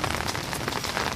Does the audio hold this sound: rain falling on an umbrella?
yes